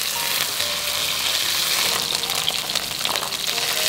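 Pieces of Murray cod, coated and pan-frying in plenty of hot oil, give off a steady, close sizzle with bright crackling and spitting, continuous throughout and with no talk over it.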